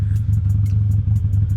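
A 2010 Harley-Davidson Nightster with a 1200cc engine rides along, giving a steady, loud low-pitched rumble with faint rhythmic clicking on top.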